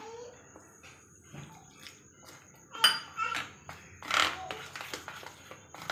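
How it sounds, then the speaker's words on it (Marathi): Water trickles and splashes into a bowl of rava uttapam batter, with brief clinks of a utensil against the side; a couple of louder pours stand out. "आणखी याच्यामध्ये पाणी टाकून घेऊया।"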